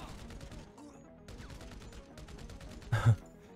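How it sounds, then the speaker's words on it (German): A single loud gunshot rings out in GTA V Online near the end, a sharp burst standing out over quieter game sounds. "Ein Schuss abgegeben und ich lade eh immer nach."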